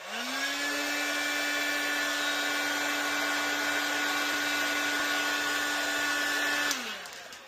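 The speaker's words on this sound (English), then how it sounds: "I've only got a 240 volt heat gun" A 240-volt heat gun blows hot air onto heat shrink: a steady, loud fan whine and airflow hiss, held evenly for several seconds before spinning down as it is switched off.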